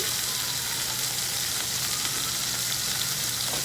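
Beef browns in a pan with a dense, steady, hissing sizzle that holds evenly throughout at close range, with no stirring or voices over it.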